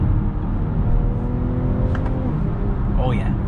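A 2022 BMW X5 engine accelerating through its 8-speed automatic transmission, a steady close cabin drone with a rising whine near the end.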